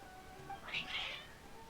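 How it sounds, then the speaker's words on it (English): A cat in Genshin Impact gives a short, soft meow, faint and brief against a quiet game backdrop. "Oh, kitty."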